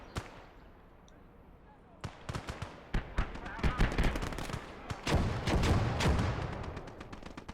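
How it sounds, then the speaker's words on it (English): Video game battle with mortar strikes and gunfire: a quiet lull, then sharp blasts and rapid bursts of shots pile up into dense, loud, continuous combat noise with booming impacts. "I'm going to drop some mortars to kind of stem the tide of things coming in"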